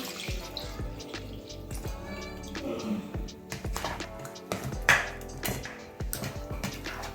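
Strained wheat liquid for halwa is poured into a hot pan, producing splashing, dripping and bubbling with scattered utensil clinks, fairly close.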